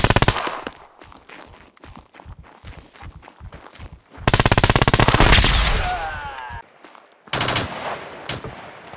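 Gunfire in the video game SCUM: scattered single shots ring out first, then a long, loud automatic burst, a short pause, and another sharp burst.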